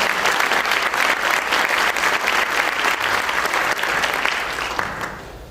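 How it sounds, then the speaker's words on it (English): Loud, sustained applause from a crowd at a press conference, dense clapping that carries on for several seconds before fading out near the end. "give ourselves all a round of applause"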